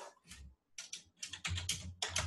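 Typing on a PC keyboard in quick bursts of clicky keystrokes with short pauses, close and moderately loud, with no talk.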